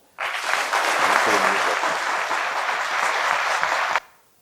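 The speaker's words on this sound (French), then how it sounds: "Je voudrais demander à mon cher public de réchauffer ce café avec un tonnet d'applaudissements." An audience at a Grand Café stage show breaks into loud, sustained applause and cheering that starts abruptly, holds steady for about four seconds, then cuts off.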